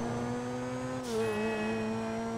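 Turismo R sports car in GTA Online drives with a steady loud engine drone that shifts pitch as it changes gear midway, with no talking.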